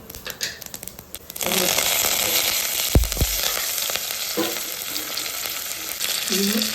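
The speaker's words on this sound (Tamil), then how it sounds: "நம்ம ஒரு பாத்திரத்தில் தேவையான அளவு நல்லெண்ணெய் சேர்த்துக்கலாம். இது கூட நம்ம கடுகு சேர்த்துக்கலாம். கடுகு, வெந்தயம், காஞ்ச மிளகாய்," Mustard seeds, fenugreek and dried chillies frying in sesame oil in a pot for a drumstick pickle, a few taps before a steady crackling sizzle erupts and carries on, with a sharp clatter of a spoon midway.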